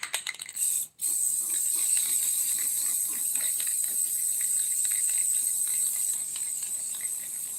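Matte clear coat sprayed from an aerosol can, a steady, close hissing spray that runs almost unbroken after a brief pause near the start, with faint rattling, no talking.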